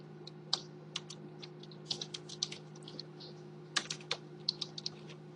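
Close computer keyboard typing in uneven bursts of light clicking keystrokes over a faint steady electrical hum, a short pause midway, no talk.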